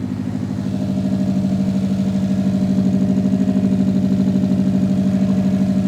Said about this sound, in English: we just heard the car fire up for the first time